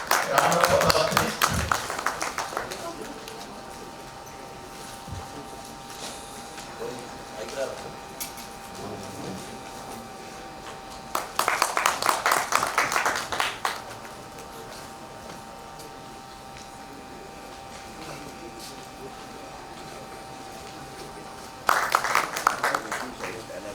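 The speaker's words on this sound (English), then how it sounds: "Round of applause, please." At a tax bar association ceremony, an audience gives three short bursts of clapping separated by quieter stretches, with a steady hum and faint room noise between them.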